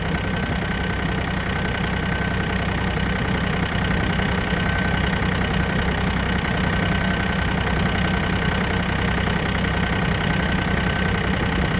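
An Iseki TA 235 compact tractor engine idles steadily and continuously at close range, a mid-pitched diesel drone with a faint knocking texture while its rear hitch is tested.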